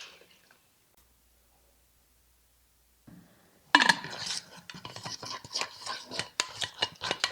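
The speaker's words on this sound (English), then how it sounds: "And you just stir it together." Flour and water paste for papier mâché masks being stirred in a bowl, with close, wet squishing and clinking strokes that start after a quiet pause and repeat briskly and unevenly.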